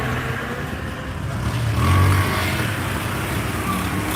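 A water tanker truck moving in busy street traffic, a continuous rumbling engine with a swell of revving near the middle, amid general road noise.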